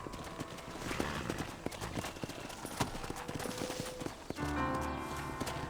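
Horse hooves clip-clop steadily in the Red Dead Redemption video game, a rhythmic trot running under busy game sound effects and music throughout.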